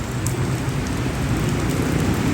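Steady rain pattering down around a pigeon loft, a dense, even hiss of drops on surfaces at moderate volume with a faint low rumble beneath and no voices.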